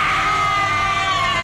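A drawn-out, piercing animalistic scream from one of the Flood monsters in Doctor Who, loud and sustained for over a second before stopping abruptly.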